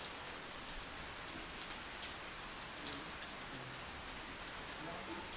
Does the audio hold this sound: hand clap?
no